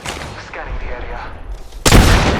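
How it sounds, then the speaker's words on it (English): Gunfire in Apex Legends, a loud close burst that hits near the end after quieter game sounds and brief callouts from a player. "I'm taking fire."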